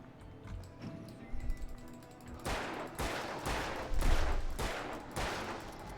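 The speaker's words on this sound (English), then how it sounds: "Trying to shoot the thing behind him" Gunshots in a dark action game, a quiet stretch of small knocks and scuffles giving way to a run of five or six sharp, loud reports spaced about half a second apart.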